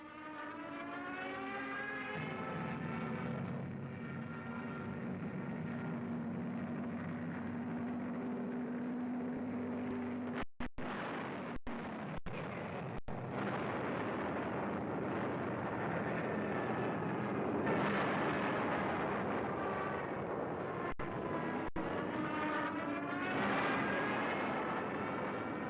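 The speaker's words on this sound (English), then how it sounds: "From the skies, a bombardment caused great damage to the Allied effort." Aircraft drone overhead during a WWII desert battle bombardment, with rising and falling engine whines and a sustained roar. A few sharp cracks break through near the middle.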